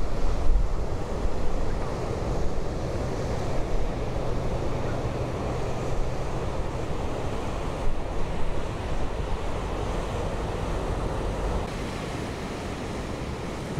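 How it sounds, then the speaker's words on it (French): Ocean waves crash steadily against the rocky coast at Punta del Hidalgo, Tenerife, a continuous loud roar of surf mixed with wind buffeting the microphone, with no voices. "Des belles vagues qui viennent frapper les rochers."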